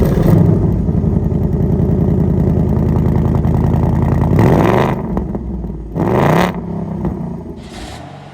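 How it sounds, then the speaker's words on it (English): A 2024 Ford Mustang GT V8 revs loudly through its dual exhaust, a sustained close rumble followed by two sharp throttle blips with short pauses between them. "dual exhaust, which makes this vehicle sound amazing"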